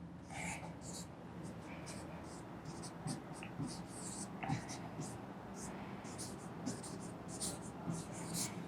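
A pen scratches across paper in short rhythmic strokes while integration steps are written out by hand, close and steady, under someone speaking softly.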